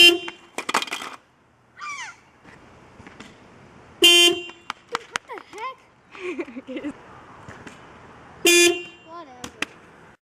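A car horn honks in three short, loud bursts spaced several seconds apart, with a person talking in the gaps between honks.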